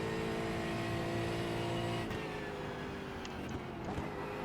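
A GT4 race car engine in the iRacing sim racing game, a steady droning hum that dips and shifts pitch partway through as the car lapses off throttle, moderately quiet with no speech.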